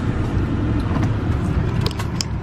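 A car rolls up and idles in a church parking lot on a Sunday morning, its steady low engine rumble close and continuous, with a few faint clicks near the end.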